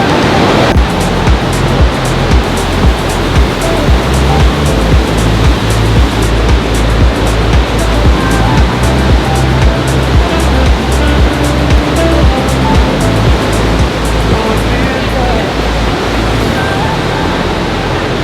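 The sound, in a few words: rushing river below a waterfall, Ouray, Colorado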